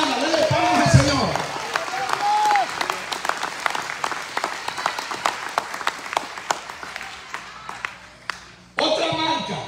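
A Spanish-speaking church congregation claps for the Lord during a worship service, with sharp, fairly even handclaps continuing under a preacher's voice and crowd murmurs before a sudden louder burst at the end.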